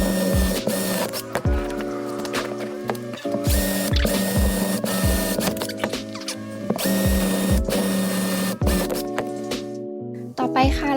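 Rapid, repeated mechanical chattering bursts from a drill boring a large hole in a clear earring holder, with short pauses between runs.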